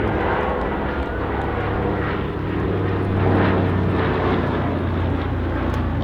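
An autogyro flies overhead at a Scottish airshow, its aircraft engine a steady, loud drone that swells slightly midway, with no talk over it.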